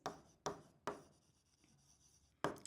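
Pen or marker strokes writing numbers by hand during a fractions lesson, a few short scratchy bursts close to the mic separated by quiet pauses.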